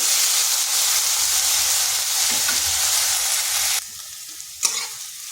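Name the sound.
potatoes stir-frying in oil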